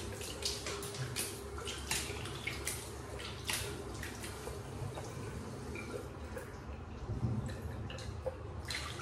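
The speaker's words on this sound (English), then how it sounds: "wet my face and wet my brush and we'll get lathering" Running water from a tap in a bathroom, used to wet the face and a synthetic shaving brush before lathering, makes a steady close splashing and trickling throughout, with small drips and splashes on top and no voices.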